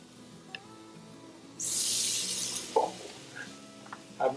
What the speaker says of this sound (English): when you hear the sizzle, as soon as it hit